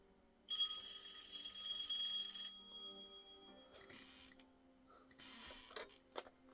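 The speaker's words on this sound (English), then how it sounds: "Did you hear that phone going off as I was trying to put this on?" An indoor telephone rings in one sustained, faint electronic trill for about two seconds, followed by quiet rustling and a few soft knocks.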